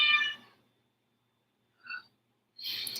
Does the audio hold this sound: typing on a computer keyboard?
no